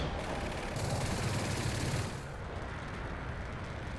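Rapid aircraft cannon fire in the Metalstorm jet combat game, a dense continuous burst for about two seconds that then eases into a steady background roar of the jet.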